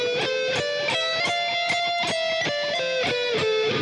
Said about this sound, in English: That's a sweep, or economy picking.